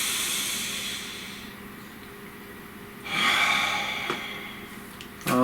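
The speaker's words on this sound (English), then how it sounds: "Nice deep breath." A deep breath is drawn in a quiet room: a long, soft airy inhale followed by a breathy exhale, close and gentle with no talking.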